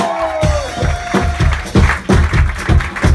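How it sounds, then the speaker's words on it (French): Applause from a concert audience at a tavern venue in Geneva: a dense, loud wash of clapping with pulsing surges, close and continuous. "Un grand applaudissement."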